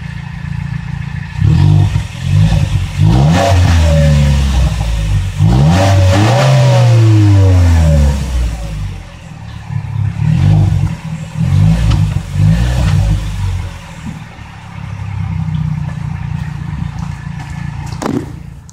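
A car engine revs hard several times, rising and falling in pitch with a loud throaty roar, then settles to a steadier drone.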